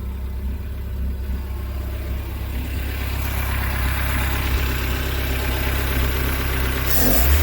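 A warmed-up Mercruiser 3.0 marine engine idles on a hose, a steady close low rumble that holds evenly throughout, with a brief rise in noise near the end.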